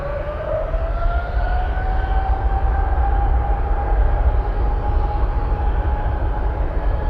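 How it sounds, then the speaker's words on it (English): Heavy cargo jet engines roar steadily at Anchorage airport during a rejected takeoff. A loud, sustained rumble with a whining tone that slowly rises fills the whole stretch. "RTO! Abort a takeoff."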